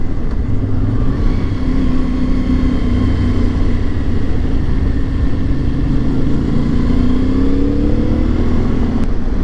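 A motorcycle engine drones steadily during a road ride, a loud continuous hum with slight pitch rises as the bike accelerates, wind noise mixed in and no talk.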